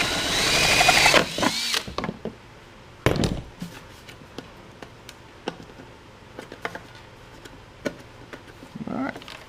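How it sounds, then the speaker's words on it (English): A power drill with a 7/8-inch bit bores a hole for a Rough Country prerunner bumper on a 2007-13 GMC Sierra 1500, grinding loudly for under two seconds before giving way to scattered clanks and knocks. "So I'm going to come up and I'm going to drill it where the specifications are for it."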